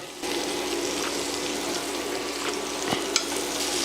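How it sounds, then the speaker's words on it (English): Butter melting and frying in a pan with garlic and crushed peppers, a steady close sizzle and hiss with a few light clinks of stirring, no talking. "Now we're gonna add our butter."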